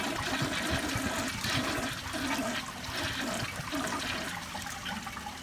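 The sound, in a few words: Crane Placidus toilet weak flush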